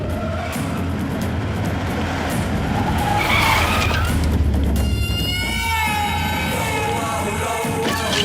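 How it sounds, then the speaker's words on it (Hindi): A car in a dramatic film scene races in and skids, tyres screeching over a loud roaring engine, with shouting voices joining in partway through. "सरकार की गाड़ी आ रही है।"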